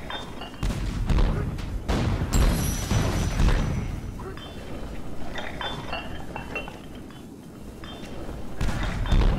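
Cannons firing in the Lego Pirates of the Caribbean video game, a run of heavy booms with metallic clinks, loud and repeated over steady game noise, with a voice talking briefly.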